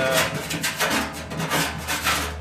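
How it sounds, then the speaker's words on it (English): Sandpaper rubs back and forth over punched holes in a 1968–72 A-body car panel to clear burrs, making a steady rhythmic rasping of close, repeated strokes. "I just got to get some sandpaper and clean the burrs off a little bit on the underside"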